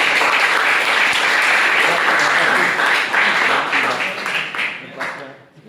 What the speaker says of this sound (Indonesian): Aplaus buat Sumatera Utara.